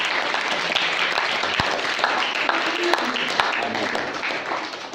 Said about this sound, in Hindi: हम यीशु के लिए तालियां जाते हैं जो हमसे प्यार करता है।